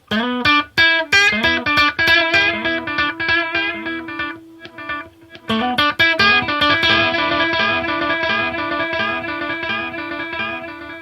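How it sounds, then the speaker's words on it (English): Electric guitar chords and plucked notes ring out through a Behringer DR400 digital reverb and delay pedal, with spacious, fairly mono reverb and trailing echoes, played loud and alone. "So it does give it a nice bit of reverb, but it's more mono."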